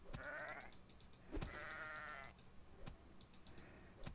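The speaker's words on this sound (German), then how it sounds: "Deswegen jagen wir hier mal lieber kurz noch das Schaf." A sheep bleats twice in the video game Reign of Kings, fairly close, with sharp game clicks and thuds and quiet background sound around it.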